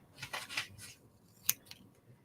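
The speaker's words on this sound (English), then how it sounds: "So we'll cut that out." Scissors snip out a small band of material in a few quick, close cuts, crisp metallic snips with short pauses between them, then a final sharp snip.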